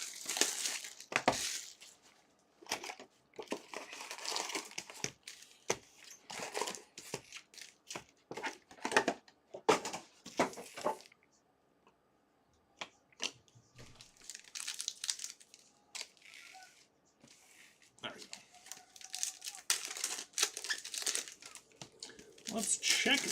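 Foil packs of 2025 Donruss baseball cards are torn open one after another from a box, with loud, close crinkling and crumpling wrapper sounds in bursts and a short quiet gap partway through.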